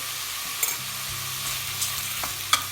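Vegetables and rinsed red lentils frying with butter in a pan, stirred. A steady soft sizzle with light scraping and a few clicks from the spoon, close and fairly quiet, with no talk.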